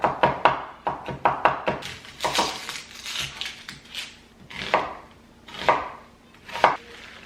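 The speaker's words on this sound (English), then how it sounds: "we're also gonna cut up some, or chop up some garlic" A knife chops garlic on a cutting board in a home kitchen, quick bursts of sharp taps followed by slower, spaced single strikes close by, with no talking.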